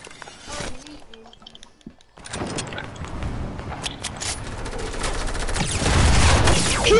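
Video game gunshots ring out in a loud, growing clatter of rapid shots after a quieter opening, building toward the end with little talk.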